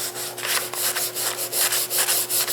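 A stiff brush scrubs Volkswagen door fabric in steady back-and-forth strokes, a close, rhythmic rasping with about ten even passes and no talking.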